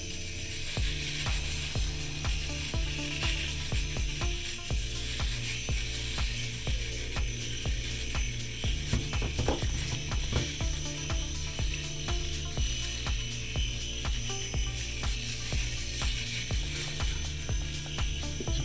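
A Philips Norelco electric razor shaving a beard, a continuous close buzzing hum with rapid rasping, clicking texture as the cutters move over stubble, steady throughout with no voices.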